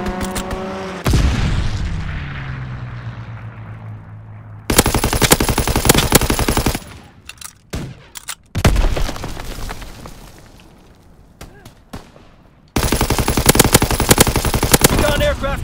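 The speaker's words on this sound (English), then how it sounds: "Fighter aircraft ready. Call for a strafing run." Machine gun strafing run in the World War II video game Call of Duty WW2, with long loud bursts of rapid automatic fire, booming impacts and a falling whine, near and dense, broken by short gaps.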